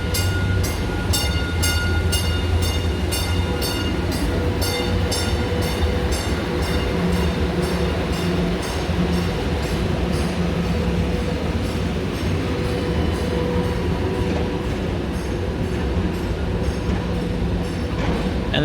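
Train pulling out of a station on the Baltimore to BWI airport line, a loud continuous rumble with rhythmic clickety-clack of wheels and metallic squealing, close and sustained throughout.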